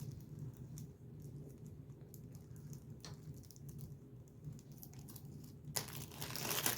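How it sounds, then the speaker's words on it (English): A small plastic bag of accessories from a red dot sight box being pulled open, with soft continuous crinkling close by and a sharper, louder rustle near the end. "So I can get the little baggie open."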